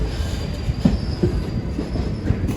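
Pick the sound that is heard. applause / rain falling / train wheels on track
train wheels on track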